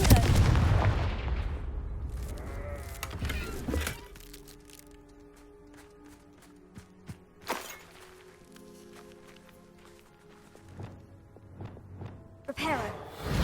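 Confringo blasting spell explosion in the Hogwarts Legacy video game: a heavy booming burst at the start fading over a few seconds, followed by scattered thuds, cracks and a few later impacts amid quieter game sounds.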